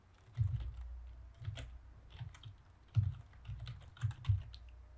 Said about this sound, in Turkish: aktif olarak kullanmış olduğum e-posta adresini yazıyorum